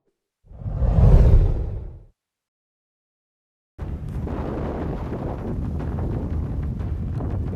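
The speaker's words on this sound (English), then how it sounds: "These Christmas winds here in the Virgins" Strong Christmas trade winds buffet a sailboat in the Virgin Islands: one loud whooshing gust that swells and fades, a short silence, then steady roaring wind rumbling across the microphone until the end.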